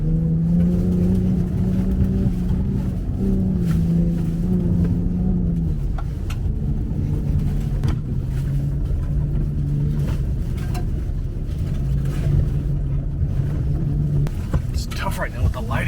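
A truck drives with a steady low engine hum and occasional rises in pitch, heard under continuous conversation from people inside.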